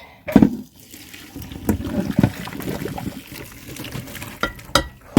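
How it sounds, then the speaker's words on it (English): Cooked pasta being strained, water splashing and draining into a sink in uneven bursts with a few clatters of the pot, close and moderately loud, no speech. "Okay, pasta is done. Strain it."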